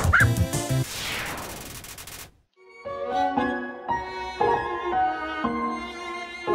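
Yapping barks of the Lesser Dog enemy in the video game Undertale, loud chiptune-style blips over game music, with a crash-like burst at the start and a short gap before the music resumes.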